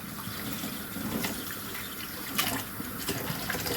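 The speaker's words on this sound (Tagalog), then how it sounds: "magpupukas ako ng pinggan" Tap water running steadily while dishes are washed at a sink, a continuous splashing hiss with small clinks and bumps of dishware, close and with no talking.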